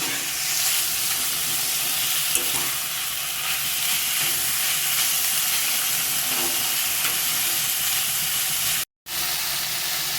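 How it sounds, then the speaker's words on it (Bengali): Chicken fries in oil in a pan over a medium flame, with a constant close crackling sizzle and hiss for about ten seconds and a momentary cut near the end. "মাংসটা কিন্তু মাঝারি আঁচে ভাজার ফলে সুন্দর একটা হলুদ হলুদ রং ধরছে"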